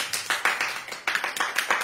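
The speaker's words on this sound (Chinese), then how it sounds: "掌声。" A few people clap in brief, uneven bursts of sharp hand claps, close and dry, with a short pause midway before the clapping resumes.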